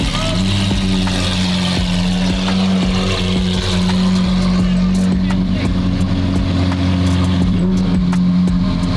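A loud, steady engine drone fills the recording, with a low rumbling hum and occasional revving, voices faintly mixed in.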